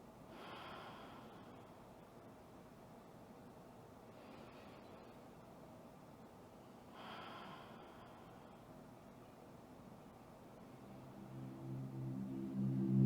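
Deep, slow yoga breathing: three long airy exhales spaced a few seconds apart, soft and close, followed by a rising background swell.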